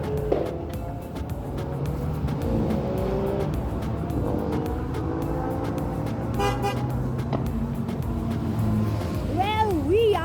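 Race cars at Donington Park racetrack in the UK, engines droning and rising in pitch as cars pass at a distance, with a horn-like toot near the end and people talking over it.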